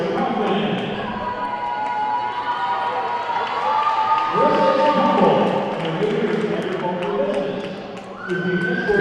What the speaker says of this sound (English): She gets a big chant from the crowd.